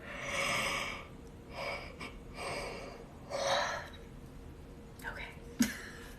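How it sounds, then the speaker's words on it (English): Person yawning several times in a row, with drawn-out breathy exhales and gasps close to the mic, separated by brief pauses, ending in a small sigh and a click. "I have to yawn again, I'm sorry."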